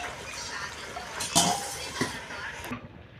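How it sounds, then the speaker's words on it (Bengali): A spoon stirs a boal fish and potato curry in a pot, making scattered clinks and scrapes against metal with a louder knock partway through, fairly quiet and close. "আবার একটু নেড়ে নেব, নেড়ে চেড়ে 1 মিনিট ঢাকা দিয়ে দেবো"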